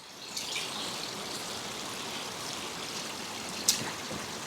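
Icy mountain spring water runs in a steady, close burble and trickle in the Ingushetian mountains, a continuous watery rush with one brief sharp splash or knock near the end.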